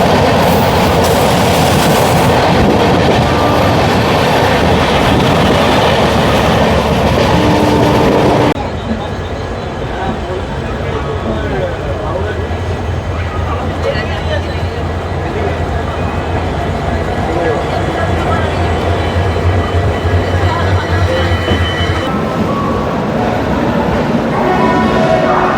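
The Rupasi Bangla Express from Purulia runs from Santragachi to Howrah, giving a loud, steady rumble and rattle of wheels and carriages. The sound shifts abruptly after about eight seconds to a quieter, rattling interior roar that carries on to the end.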